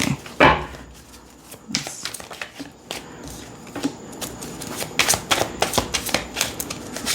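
An oracle card deck used for true crime readings is shuffled close up, giving a crisp riffle burst near the start followed by a run of quick papery flicks and taps, with no voices.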